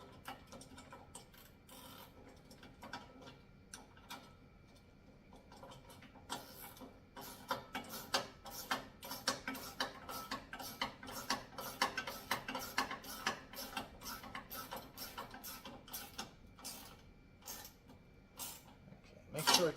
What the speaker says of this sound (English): Let's tighten this down.